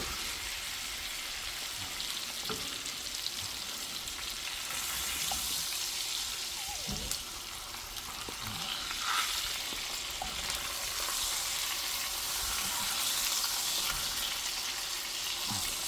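A salmon fillet fries skin side down in a pan, giving a steady, close, bright sizzle that hisses evenly throughout with faint scattered pops and no talking.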